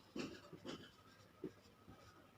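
A pen scratches on paper in short, quiet bursts of strokes with pauses between them, close and faint, while class 10 maths working is written out.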